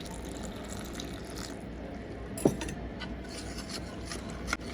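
Water poured into a mixed flour base for Multani sohan halwa, a steady soft pouring wash with a faint clink partway through, close and fairly quiet.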